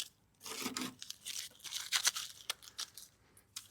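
Masking tape peeled off a car headlight during restoration, heard as a few quiet tearing and crinkling strips in short bursts, close by with no talk.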